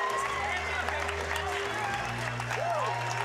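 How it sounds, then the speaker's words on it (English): Crowd at an amateur MMA fight night in Los Angeles cheering and clapping after a round, a broad wash of applause and voices with a commentator talking over it. "some cheers from the crowd for that round"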